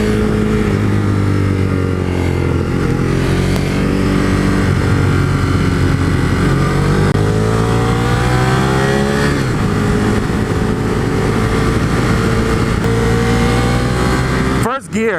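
A Ducati 848 Streetfighter motorcycle engine drones steadily and loudly as the bike is ridden, its pitch sweeping up and down as it pulls through the gears, with a brief knock at the end.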